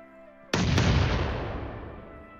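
A grenade detonates in the PUBG Mobile battle royale game, a single loud sudden boom with a brief double crack at onset, followed by a long rumbling decay over about two seconds.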